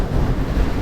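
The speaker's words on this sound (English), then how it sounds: "And it's kind of breezy." Steady low rumbling wind of about 17 knots gusting to 22 buffets the microphone aboard a sailing boat, with a wash of open water underneath; constant and fairly loud throughout.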